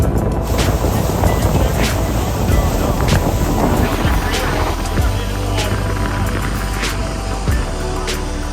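Water pouring over an Aquascape spillway diffuser at a waterfall feature, a loud steady rushing wash with some wind buffeting on the microphone.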